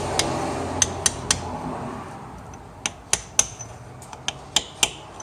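A small brass driver tapping a rear main crankshaft seal into its housing: a string of sharp, ringing metallic taps, some in quick pairs, close and clear over a low background murmur, no talking.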